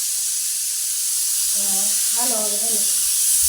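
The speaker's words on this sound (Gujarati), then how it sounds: "શાકમાં સીટી થઈ રહી છે" A pressure cooker cooking vegetables lets out a loud, continuous steam hiss, steady and close throughout, while a voice speaks briefly over it midway.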